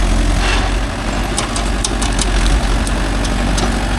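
A Mahindra tractor engine, a Yuvo Tech Plus 585 4WD or 575 DI, idles steadily and loud at close range as it is driven in, with a continuous low rumble and faint clicks.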